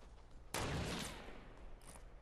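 A sniper shot rings out in Fortnite: one sudden loud crack with a lingering tail, then a much fainter report about a second and a half later, against a quiet background.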